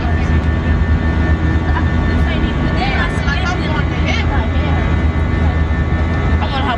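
Steady airplane cabin engine roar during a flight, loud and continuous throughout, with people talking faintly underneath.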